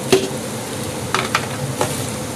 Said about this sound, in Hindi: मसाले को भून लेंगे। मसाले का कच्चापन सारा हम ख़त्म कर लेंगे।